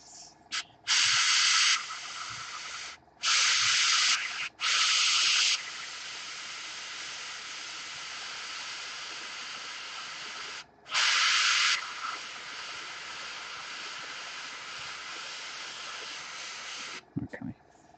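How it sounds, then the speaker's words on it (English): An airbrush sprays paint in several hissing bursts: one short, two of about a second and a half, then a longer stretch near the end, with a faint background hiss between them. "I can airbrush on my thumb."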